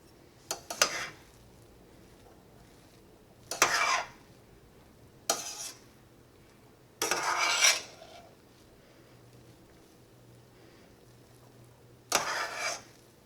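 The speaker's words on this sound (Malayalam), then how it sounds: "ഇതെല്ലാം കൂടിയിട്ട് നന്നായിട്ടൊന്ന് മിക്സ് ചെയ്യാം." A spoon scrapes and stirs rice with salt in a cooking pot, five separate short bursts of rasping strokes against the metal with quiet pauses in between, close and clear.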